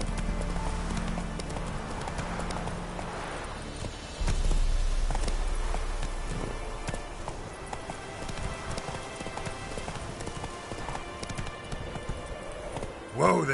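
Horse hooves clip-clopping at a walk in The Witcher 3 video game, a steady close rhythm with a louder stretch midway, occasional whinnies and game ambience around it.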